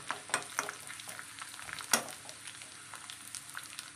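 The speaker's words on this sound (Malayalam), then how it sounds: "കുറച്ച് ചുവന്നുള്ളി ചെറുതായിട്ട് അരിഞ്ഞതാണ് ഇട്ട് കൊടുക്കാം. മൂക്കട്ടെ." Finely chopped shallots fry in hot oil for a mango curry, a soft crackling sizzle with sharper pops and occasional stirring scrapes, close and fairly quiet, no talking.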